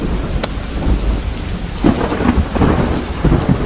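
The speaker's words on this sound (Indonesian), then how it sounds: "Kalau kita protes lagi, Rod, nanti kita kena sambar petir lagi, Rod." Thunder rumbles through a heavy rainstorm, with steady rain pouring on surfaces and a few sharper cracks and drops standing out, close and loud, with no voices.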